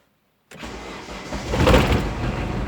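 An Opel Kadett engine cranks and catches after a brief silence following an ignition switch replacement, then settles into a steady, rumbling run that swells slightly louder, close by.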